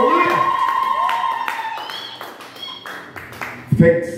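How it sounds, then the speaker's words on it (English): Church congregation clapping to the Lord during a Swahili and English service, loud rhythmic handclaps in a steady beat with voices calling out over them. "May we clap to the Lord."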